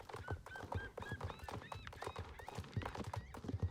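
A horse whinnies several times over a steady clip-clop of hooves, with game-like ambience and faint voices in the background.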